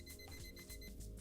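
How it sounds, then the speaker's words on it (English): An alarm clock in a point-and-click video game rings in a brief, pulsing electronic beep pattern, faint and alone. "I'll set the alarm to go off again."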